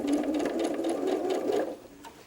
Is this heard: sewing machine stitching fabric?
yes